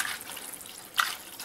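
Cold water for soaking ragi finger millet noodles, heard as a brief bright splash and trickle of running water in a kitchen, close and moderately loud.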